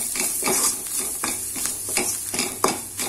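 A spoon scrapes and stirs mashed potato with salt, turmeric, chili and coriander powder in a hot pan, rhythmic scraping strokes over a steady close sizzle.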